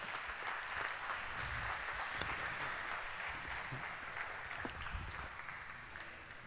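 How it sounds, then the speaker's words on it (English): An audience at a hacker conference talk on building humanitarian hackers applauds in a sustained, dense wash of clapping that holds steady throughout and stays moderately distant. "let's hear a round of applause"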